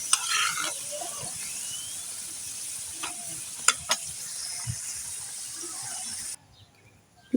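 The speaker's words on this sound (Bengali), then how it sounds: "বাকি পিঠেগুলো এভাবে ভেজে নেব" Jilapi pitha, a village-style sweet, fries in hot oil with a steady, close sizzle and a few light clinks. The sizzle cuts off abruptly near the end, leaving near silence.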